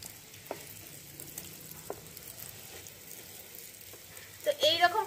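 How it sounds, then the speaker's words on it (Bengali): Bread pakoras stuffed with potato fry in hot oil, giving a soft steady sizzle with a few light knocks of a utensil, then a brief louder bubbling burst near the end. "পালট পালট করে ভালো করে লাল লাল করে ফ্রাই করে নিয়েছি"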